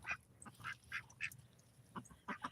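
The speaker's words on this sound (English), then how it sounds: "we also have a duck couple that has come in, and they stick around with each other a lot." Ducks on a farm quacking in a quick series of short, nasal calls, fairly faint and close together, with no one speaking.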